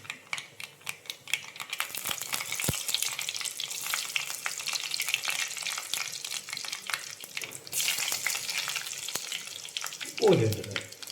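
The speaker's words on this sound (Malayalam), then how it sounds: "കടുകൊന്ന് പൊട്ടി വരണം" Mustard seeds and dried red chillies splutter in hot oil for a Vishu curry, a busy crackling sizzle dense with sharp pops and ticks, steady and close throughout, with a brief stirring scrape near the end.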